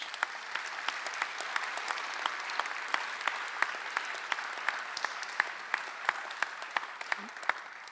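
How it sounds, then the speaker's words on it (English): Sustained applause fills a faculty welcome event, steady dense clapping from a large audience that carries on without a break for the whole stretch. "Let's give them all a round of applause."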